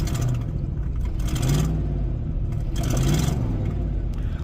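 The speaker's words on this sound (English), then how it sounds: "almost sound like it's got an exhaust leak up under the hood, maybe" A Chevrolet Caprice engine idles steadily with a rough, raspy chuff and periodic hissing bursts from an exhaust leak under the hood, close and continuous with no talk.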